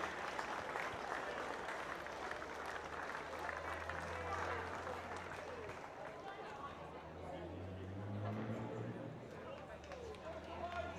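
Sustained crowd applause for two Hall of Fame inductees at a Townsville AFL senior finals presentation, a broad steady clatter of clapping with a voice speaking over it near the end.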